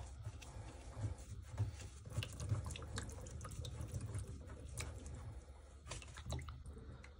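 Water drains from the drain point of a central heating system filter by a boiler with a steady, quiet, low rushing and trickling flow and faint drips, and no talking.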